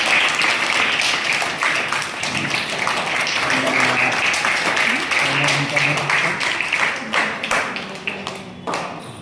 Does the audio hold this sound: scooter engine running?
no